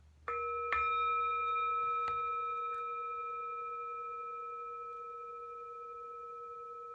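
A meditation bell is struck once, then touched again with a couple of softer taps, and its clear ringing tone lingers and slowly fades for several seconds in an otherwise quiet room.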